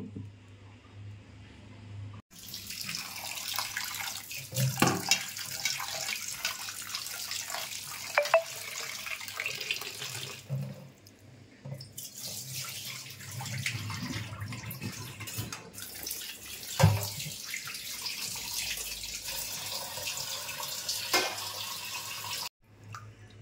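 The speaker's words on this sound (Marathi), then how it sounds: "आता ना मी मासे धुवून घेते" Tap water runs and splashes steadily with brief pauses while washing fresh fish from the Kudal fish market, with occasional clatter of handling in a sink.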